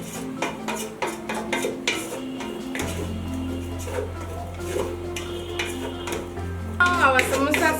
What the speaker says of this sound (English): still stir fry for like 3 to 5 minutes